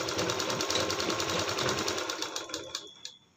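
Rapid stitching from a sewing machine running a rough stitch through blouse fabric, a steady close whir that slows into a few separate stitches near the end.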